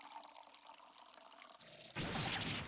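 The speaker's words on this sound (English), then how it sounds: "You're still pouring scalding hot tea all over me." Hot tea poured in a video game, a hissy, steady liquid stream that grows suddenly louder and fuller near the end, close and continuous with no talk.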